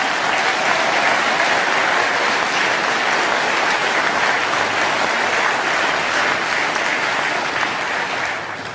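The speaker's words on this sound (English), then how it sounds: "Please give them a round of applause" Conference audience at a UKIP 'Say No' event in Doncaster gives a sustained round of applause, loud and dense throughout with no gaps, easing slightly at the end.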